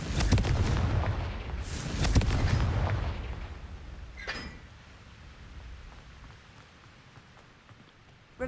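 Hogwarts Legacy's Confringo fire-blast spell erupts in a pair of loud booming blasts that roll into a crackling, fading rumble, with a brief sparkling hiss after.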